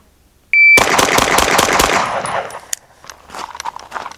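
A Staccato pistol fires a rapid string of staccato shots in a timed drill at a shooting range, loud and close, starting abruptly after a timer beep, followed by fainter scattered clanks and echoes.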